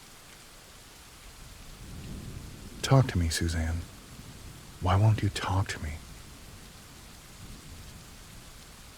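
Springtime rain falls steadily outside a hotel room, a soft continuous hiss with a faint rumble of thunder in the background, while a voice speaks briefly in the foreground.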